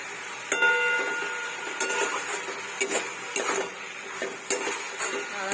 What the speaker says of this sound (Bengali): ডালটা দিয়ে নাড়াচাড়া করবো